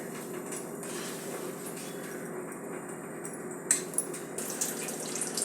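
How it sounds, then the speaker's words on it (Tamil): A pot of drumstick-leaf (murungai keerai) sambar simmers at a steady boil, giving a continuous watery bubbling hiss with a few light clinks near the end, and no voices. "கொதி வந்துருச்சு. இப்போ நம்ம முருங்கைக்கீரையை எடுத்து போடலாம்."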